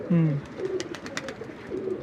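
A pigeon gives a low throaty coo, followed by soft repeated cooing against light background clatter.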